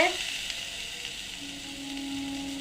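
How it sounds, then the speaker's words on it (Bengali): Potatoes fry in oil in a kadai used earlier for frying fish, giving a steady, even sizzling hiss close by that stays constant throughout, with no voices. "আমি আলুটা দিয়ে দেবো কড়াইতে"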